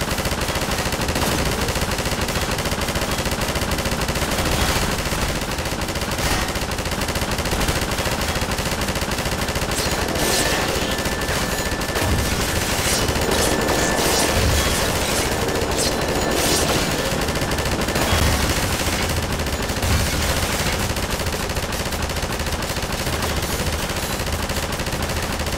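Sustained turret machine gun fire in Half-Life 2 during the Crisis City escape, dense continuous bursts of rapid shots at steady loudness across the whole stretch, with no talking over it.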